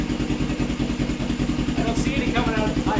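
A Suzuki GS450 scrambler motorcycle that has been sitting a while runs close by with a steady, loping mechanical rhythm throughout, while a person talks over it toward the end.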